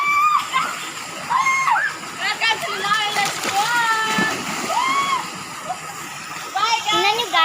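Splashing water at Linaw Elis Falls as people bathe, broadband rush and splatter running throughout under frequent high-pitched children's and adults' voices calling out.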